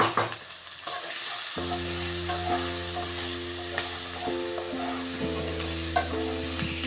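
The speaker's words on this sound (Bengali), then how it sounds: "কিছুটা লঙ্কার গুঁড়ো অ্যাড করে দিয়ে একটু নাড়বো" Ginger garlic paste and chili powder sizzle and fry in a pan over a high gas flame while being stirred, a steady hiss with scraping strokes, close and continuous, with no voices.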